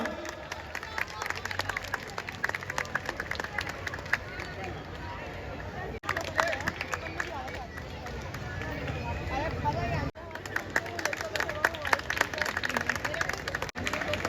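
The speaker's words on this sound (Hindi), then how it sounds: "एक बार जोरदार तालियां।" Loud applause from a Ramlila audience during the Ahiravan Vadh staging in Saharanpur, with dense rapid clapping from a large crowd that runs steadily with brief breaks, mixed with crowd murmur and an amplified voice.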